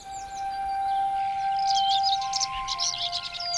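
Dawn chorus of many birds singing together at daybreak, overlapping chirps and trills layered over steady high tonal calls, continuous and fairly close throughout.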